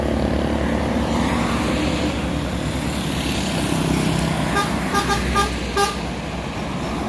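A yellow tour bus passes close by along a road, its engine rumbling steadily while a short series of horn toots sounds near the end, with no talking.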